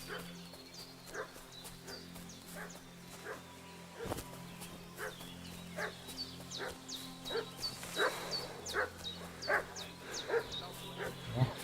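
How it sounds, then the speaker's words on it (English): Dog barking in the video game Kingdom Come: Deliverance II, repeated sharp barks and yips at a moderate distance in an irregular rhythm, growing busier toward the end over a quiet ambient hum. "What's that dog making such a fuss about?"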